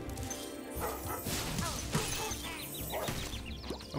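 Dogs barking in the video game Spyro the Dragon, from a shepherd's dog in a level, with repeated yips and barks over busy game music and crashing effects.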